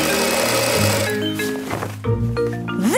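A cartoon sewing machine runs through dress cloth with a steady buzzing hum, then stops into softer rattles and a rising whistle-like tone at the end.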